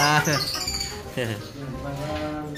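A woman imitates a bird call with her voice, producing a run of bright, warbling whistled tones close to the listener, with voices and background chatter mixed in.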